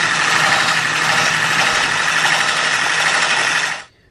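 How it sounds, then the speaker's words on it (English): Almond flour batter is mixed with a powered whisk or mixer, giving a steady, loud motor whir that runs close and constant for almost four seconds, then stops abruptly, with no one talking. "I am going to whisk this together and just see what kind of consistency we have"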